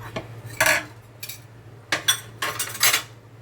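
Boiled potatoes mashed in a metal vessel for an Andhra-style potato fry, heard as a few close, crisp bursts of utensil scraping and clinking against the pot with short pauses between.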